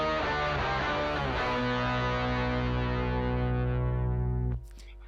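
Distorted lead electric guitar doubled an octave lower by the same sound, played without volume automation, thick sustained notes that change pitch early and then hold loudly before cutting off near the end.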